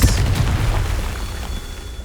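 A Confringo fire-blast spell in Hogwarts Legacy goes off as a deep, booming explosion that starts loud and decays slowly over about two seconds, with a rumbling low end and no voices.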